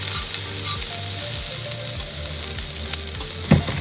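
Onions sauté in a pan at an off-grid campsite, a loud steady sizzle up close with faint stirring and a single sharper knock near the end, no talk.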